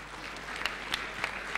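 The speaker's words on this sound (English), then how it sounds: "Perhaps we all deserve a clap." A conference audience gives a brief round of applause, a faint, moderately distant patter of many hands clapping with a few sharper claps standing out.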